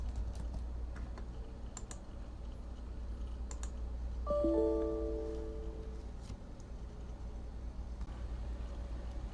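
Fingers tap out a short word on a computer keyboard, a few light, close clicks over a low steady room hum, with a brief tonal beep midway and no talking.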